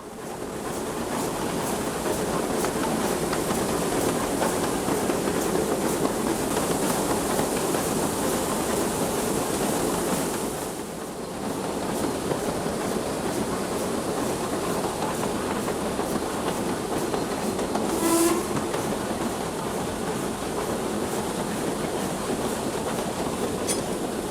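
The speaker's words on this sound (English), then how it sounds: "a steam locomotive plunges into a tunnel" A steam locomotive runs through a tunnel with a dense, enclosed, continuous roar and rumble, dipping briefly midway, with faint rhythmic rail clatter throughout.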